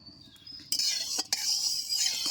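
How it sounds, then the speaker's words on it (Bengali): Hot oil being spread around an iron wok before frying katla fish: a quiet start gives way to a hissing sizzle with sharp metallic scrapes of a utensil against the pan. "তেলটা গরম হয়ে গেছে, আমি সব কড়াইতে তেলটা সুন্দর করে ছড়িয়ে দিলাম"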